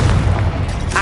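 A Confringo spell explosion in the Hogwarts Legacy video game: a loud, sustained, booming blast with heavy low rumble that fills the whole moment.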